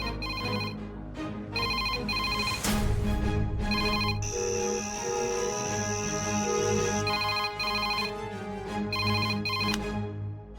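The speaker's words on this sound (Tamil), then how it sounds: "அப்புறம் யாரு போன் அடிக்கிறா?" Phone ringing inside a home, a loud electronic ringtone playing as a repeating melodic pattern of short tones and pauses, with no one talking.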